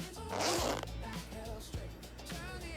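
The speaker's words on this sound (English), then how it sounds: "You can take those little crates together, holding them with zip ties," Zip ties tightened around small plastic storage crates, giving a quick faint ratcheting burst with softer rustling and handling afterward.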